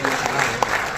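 Audience clapping at a mushaira, an Urdu poetry gathering, a steady dense patter of applause filling the short moment with a brief louder burst near the end.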